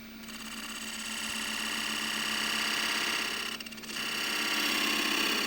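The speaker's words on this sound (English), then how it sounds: "it's just using my shear scraper flat on the rest" A shear scraper held flat on the tool rest cuts a large crossgrain wooden box on a lathe, giving a steady, close whirring scrape with a brief dip near the end before the cut resumes.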